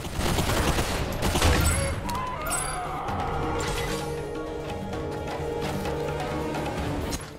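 Sustained rapid minigun fire in the VR shooter Bulletstorm VR, a loud dense roar of continuous shots with crashing impacts and game effects layered over it throughout.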